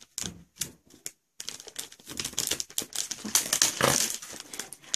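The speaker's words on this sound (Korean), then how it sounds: "같이 한번 뜯어볼게요. 반반씩 뜯어볼게요." Plastic packaging for a soft-jelly animal-making toy kit being torn and crinkled open, with a few sharp rips followed by dense, busy crackling close by and no talking.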